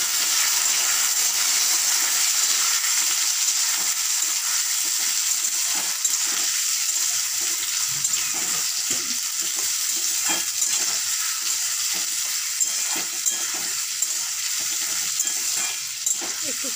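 Cut potatoes sizzle and fry in a hot pan for a pui shak and masoor dal dish. The frying hiss is steady and continuous, with occasional stirring scrapes and small crackles, and no voices.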